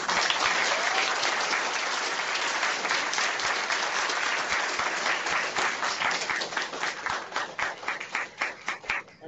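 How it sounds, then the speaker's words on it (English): Warm round of applause for a Pro Football Hall of Famer at an online event, dense clapping that thins toward the end into a few distinct, separate claps. "join me in giving a warm round of applause to Pro Football Hall of Famer Mr. Carl"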